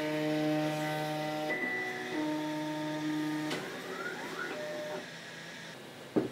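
Da Vinci Pro 3D printer starting up, a quiet run of steady electronic stepper-motor tones that shift pitch in distinct stages, with small clicks and a short knock at the end, close and alone.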